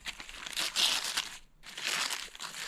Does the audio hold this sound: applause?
no